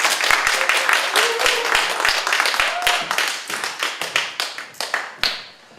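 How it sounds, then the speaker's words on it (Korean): An audience applauds at the close of a lecture on gig economy and network marketing, brisk clapping that thins into scattered claps and fades out. "다시 한번 큰 박수 부탁드립니다."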